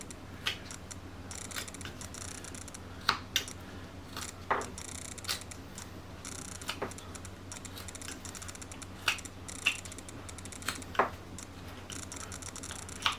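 Short, crisp knife cuts in wood while carving the hat of a Santa figure, a scattered series of quick sharp ticks and snips, close and fairly quiet over a steady low background hum.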